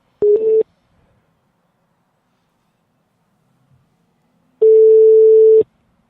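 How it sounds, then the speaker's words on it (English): A telephone ringback tone on a call placed into a live sports radio show: a short tone burst, a long pause, then a second, longer burst of the same steady, clear tone. "It's ringing."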